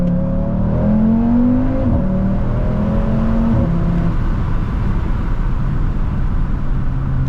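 A 2023 Audi RS3 in manual paddle-shift mode revs and accelerates from the lowest gear, engine tone climbing and breaking twice at quick upshifts before settling into a steady cruising drone, loud and close from inside the car.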